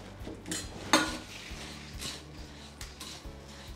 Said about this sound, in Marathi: आता हे मिक्स करून घ्यायचं आहे.